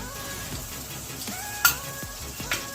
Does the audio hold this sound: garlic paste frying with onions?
yes